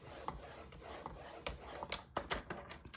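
Paper scored on a score board for a pocket card from 12x12 pattern paper gives faint, close rubbing scrapes, a few short strokes and soft ticks spread irregularly over a few seconds.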